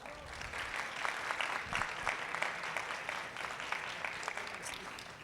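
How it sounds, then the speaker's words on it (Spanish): An audience applauds at a book presentation at a book fair, a steady, moderately loud round of clapping that holds evenly throughout. "un aplauso, por favor"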